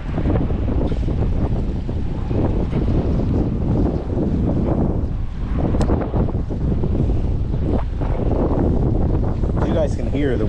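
Strong coastal wind buffets the microphone in steady, loud gusts while fishing beside a large bridge over Florida saltwater, with choppy water and a boat passing faintly underneath.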